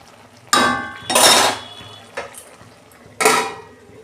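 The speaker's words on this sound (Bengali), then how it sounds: "ঢাকনা খুলছি" A metal lid is lifted off a cooking pot of red leafy greens and potatoes simmering on a gas stove, giving a few sharp clanks and rattles spaced over a few seconds, close and fairly loud.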